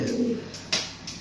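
A pigeon coos close by, a soft low murmuring call followed by a few brief higher notes, heard alone against a light background hiss.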